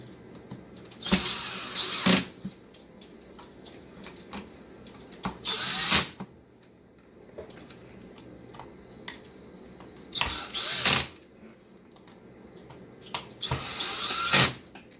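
A power tool drives screws back into a Cambium Medusa unit in short whirring bursts, four main runs with pauses and small clicks between them, close and fairly loud over a quiet room.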